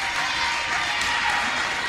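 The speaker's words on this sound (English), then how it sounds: "Crowd starting to get into it for the Trojans" A basketball crowd cheers for the Trojans at a high school game during free throws, a steady wash of noise from a packed gym with some clapping.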